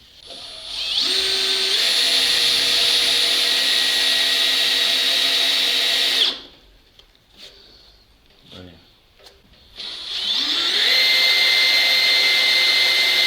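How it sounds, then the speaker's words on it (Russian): A 30 mm Chinese drill bit bores into the armor plate of a Soviet BRDM-2 amphibious vehicle with a loud, sustained high whine. The drill stops midway, leaving a few brief knocks and noises, then spins up and whines again. "буду сверлить отверстие в броне советской. Сейчас проверим, как китайское сверло на 30 справится с бронелистом."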